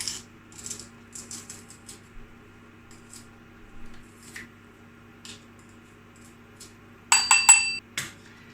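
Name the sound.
crushing peeled garlic for a vegan quiche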